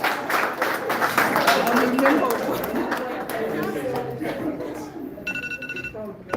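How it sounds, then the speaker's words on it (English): Presentation course audience giving themselves a round of applause: clapping mixed with loud crowd chatter and voices throughout, with a phone-like ringing tone near the end. "let's give ourselves a big round of applause"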